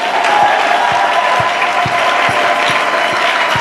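A church congregation claps in a steady, dense burst of applause that holds at an even level throughout, with a faint low tone underneath.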